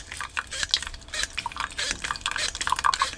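Coffee drips and trickles through a hand-pumped portable coffee maker used in a truck cab, a busy stream of small wet splashes and patters that continues steadily throughout.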